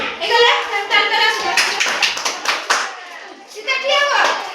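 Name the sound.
children clapping hands while counting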